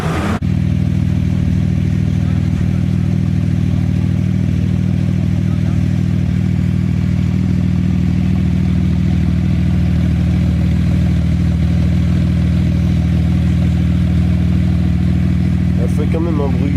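A Porsche engine at Spa Francorchamps rumbles steadily and close by with a coarse, raspy idle that holds constant for the whole stretch, with a brief rising note near the end.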